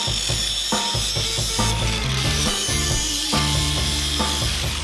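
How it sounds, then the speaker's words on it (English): Angle grinder cutting steel stock for a custom car bash bar, a loud continuous harsh grind with rhythmic pulsing bursts and rasping throughout, close and alone without speech. "As you can see with the grinder, the cuts aren't very clean"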